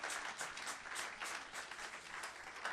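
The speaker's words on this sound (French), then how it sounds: "Nous acclamons pour le Seigneur" A church congregation applauds for the Lord, with a continuous wash of many hands clapping, moderately distant and sustained throughout with no break.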